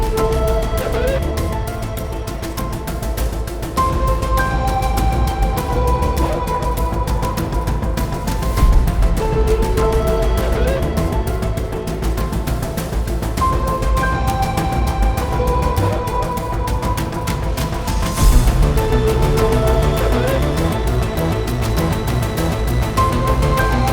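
A trailer-music buildup layers synth, tonal sound design, driving percussion and a viola ostinato with strings into a dense, loud, steadily pulsing texture that swells in places, purely instrumental.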